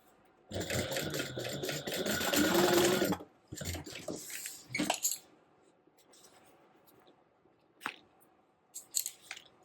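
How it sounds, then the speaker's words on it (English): A sewing machine basts fabric at a quarter-inch seam, running in a loud burst for a few seconds, then stopping and restarting in shorter stitches and clicks. "You go ahead and baste that together at 1/4 of an inch seam allowance."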